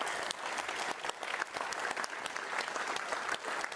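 An audience claps after a live electronic music performance, with dense, steady applause filling the room from start to finish, moderately loud and without clear talk.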